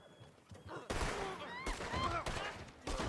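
Gunfire in the Western video game Red Dead Online during a West Elizabeth showdown: several sharp, loud gunshot bursts crack out at roughly one-second intervals, each with a ringing tail, as some voices chatter faintly underneath.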